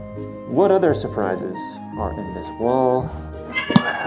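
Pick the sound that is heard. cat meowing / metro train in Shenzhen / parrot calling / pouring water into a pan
cat meowing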